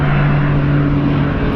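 Skydiving airplane taking off, a loud, close propeller engine drone holding a steady pitch throughout.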